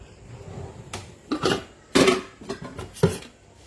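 A mixing bowl is fetched and set down on a kitchen counter, giving a few sharp clattering knocks and clunks, close and moderately loud against a quiet room.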